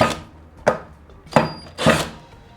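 A cordless drill with its clutch at setting 21 drives a screw into wood, giving four sharp, evenly spaced knocks and clicks with no voices.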